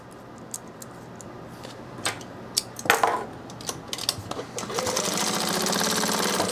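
A sewing machine stitches a back tack at the end of a seam on a drop liner tote, starting after scattered clicks and handling noises and building into a steady, close mechanical whir toward the end.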